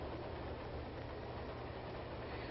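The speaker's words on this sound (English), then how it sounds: "Thousands of people will use this train after we've gone." A train rolls along with a constant, dense rumble, heard from inside the carriage, steady and unbroken throughout.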